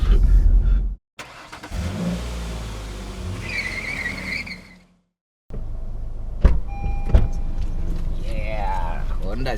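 A 2016 Honda Civic 1.5 turbo is driven hard, its engine droning and building under acceleration inside the cabin while someone talks over it, with a brief gap where the sound drops out.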